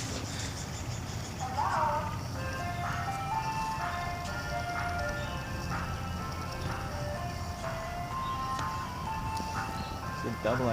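An ice cream truck plays the Picnic song as a music box jingle. The tinkling melody carries on steadily over a running vehicle engine and low outdoor noise, with people talking nearby.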